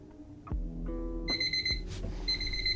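Loud electronic beeping in repeated bursts, a bright piercing alarm tone that sounds several times in quick succession over a low background rumble.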